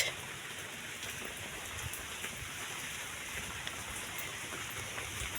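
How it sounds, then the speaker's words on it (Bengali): Steady rain falls on a muddy village road, a dense even hiss with scattered drop patters, continuous and moderately distant, no speech. "কাদা রাস্তায় এতটা বৃষ্টি পড়ছে"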